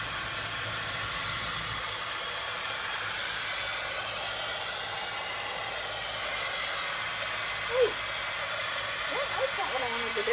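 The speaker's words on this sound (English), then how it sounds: "now I'm going to go ahead and I'm going to dry this" Hand-held dryer blowing on a stencilled home décor craft project, a loud steady whooshing hiss running throughout, with faint voice sounds near the end.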